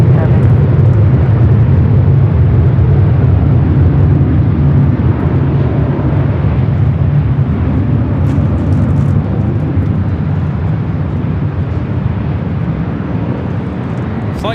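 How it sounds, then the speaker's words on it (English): A United Airlines Boeing 787-10 Dreamliner landing at LAX, arriving from Tokyo Haneda, produces a loud, continuous low jet roar that holds steady for the whole stretch, heavy and close with broadband rumble and no talk over it. "Our next arrival is United Airlines Flight 38 coming in from Tokyo Haneda on the 787-10 Dreamliner"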